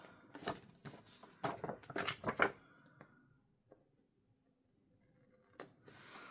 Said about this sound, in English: so I need to cut that off